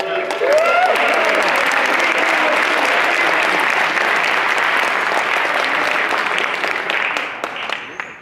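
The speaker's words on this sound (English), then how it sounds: "Let's give an applause to that." A football team's varsity and JV banquet crowd breaks into steady, full applause celebrating back-to-back league championships, with loud continuous clapping that holds evenly before tapering off at the close.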